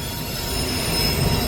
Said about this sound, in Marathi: ट्रेन पण आली बघा.